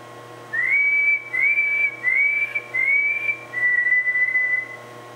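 Five short whistled phrases in a row, each a steady rising-then-level tone with brief gaps between, heard up close inside a lighthouse during a paranormal investigation over a low background hum.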